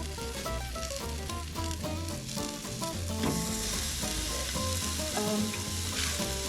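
Malaysian Ramly burgers sizzling steadily in a pan, a dense, loud frying crackle that carries on throughout, with scattered spatters and a faint musical tone in the background.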